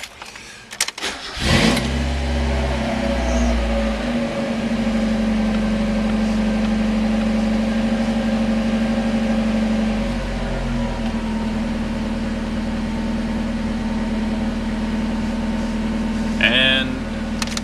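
A 1990 Mazda Miata with the 1.6 engine cranks briefly and catches, then settles into a steady, close idle that runs unbroken for over fifteen seconds, with a brief higher-pitched squeak near the end.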